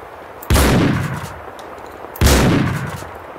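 Two loud, close shotgun blasts in the Max Payne video game, about two seconds apart. Each one hits hard and has a long booming tail that fades before the next shot.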